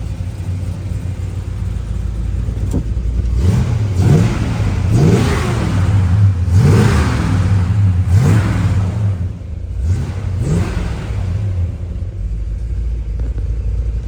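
A 1966 Chevrolet Chevelle SS engine idles with a deep rumble, then revs up and down repeatedly in several bursts before settling back to idle.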